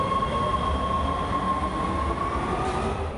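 A Metro subway train rides along with a steady, loud interior rumble and a faint high whine, heard from onboard with no talking.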